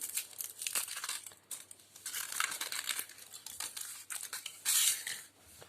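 The foil wrapper of a Kinder Surprise chocolate egg crinkles and rustles up close in irregular bursts as it is unwrapped, ending with a sharper tearing crackle.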